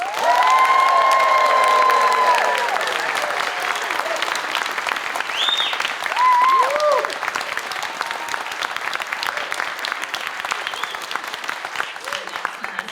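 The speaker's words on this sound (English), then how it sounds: "now we want a big round of applause" Loud audience applause at a live science show during a festival, a dense burst of clapping with a few shouts and cheers, strongest early on and then holding steady for the rest of the stretch.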